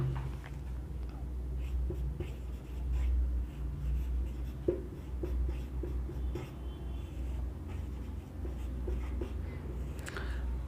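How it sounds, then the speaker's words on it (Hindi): A pen or chalk writes by hand, making faint, irregular scratching strokes and light taps over a low steady background hum. "इसके प्रकार लिखते हैं हम"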